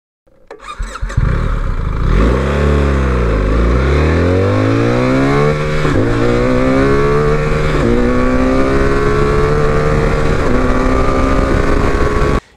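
A 2024 BMW R1300GS Trophy motorcycle engine rises from idle into a loud, sustained acceleration, the pitch sweeping up and down through several gear changes, close and unbroken to the end with no talk.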